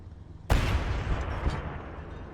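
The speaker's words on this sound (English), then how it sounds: "The barrage begins." Artillery barrage in the early WWII Eastern Front game mod Call to Arms Gate: a sudden loud boom opens a dense, rumbling roll of blasts, with a second heavy thump a second later, no talk.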